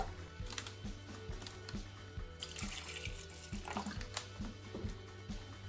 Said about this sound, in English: Pour 100 ml of warm water into it.